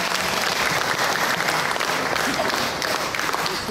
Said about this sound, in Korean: 다시 한번 격려 박수 부탁드립니다